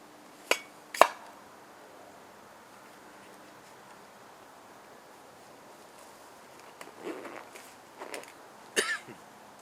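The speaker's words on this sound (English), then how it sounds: "Excuse my coughing, please." Two sharp coughs near the start, followed later by a few quieter rough throat sounds in an otherwise quiet setting.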